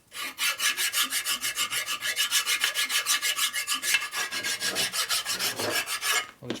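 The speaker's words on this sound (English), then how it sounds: "this file has a smooth side on the back, so you can rub against the machine lip here" A hand file rasps with steady back-and-forth strokes against a 1957 Harley-Davidson panhead engine's machined lip, nearby and continuous, with no talking.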